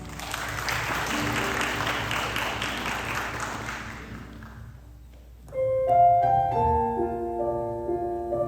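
Applause at a university staff worship service fades out over several seconds, then after a brief lull the opening music of a worship song begins with sustained tones.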